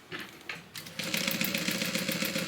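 A sewing machine stitches fabric for a divider bag. A few short starts give way to a steady, fast mechanical whirr and clatter, close by and moderately loud.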